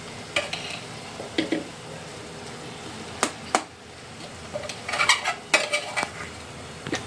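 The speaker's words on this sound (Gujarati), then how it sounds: "હવે આપણે જે વટાણા અને મિક્સ બધી દાળ કરીને જે ખીચડી નાખી હતી બનાવી હતી એ આમાં એડ કરશું" Cooked peas and mixed-lentil khichdi tipped into a pan and stirred, with a spoon giving scattered metallic clinks and scrapes against the pan over a low, quiet background; no talking.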